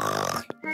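A voice mimics a snore with a short grunting, piggy snort after a sustained vocal sound, close and fairly loud.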